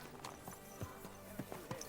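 Horse hooves clip-clopping in irregular soft strikes in the Kingdom Come Deliverance II video game, set in Kuttenberg, with faint game ambience and a possible brief whinny; no speech over it.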